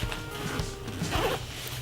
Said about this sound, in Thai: ตัวนี้มันก็เปิดซิปได้เลยทางช่องหน้า